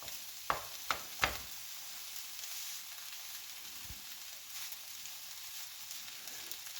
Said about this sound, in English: You stir gently so we don't put the rice on the stove top